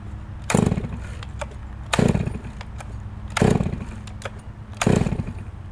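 A chainsaw fitted with a modified semi-chisel or full-chisel chain cuts through wood in four loud, close bursts spaced evenly apart, each rising sharply and then easing back to an idling buzz between cuts.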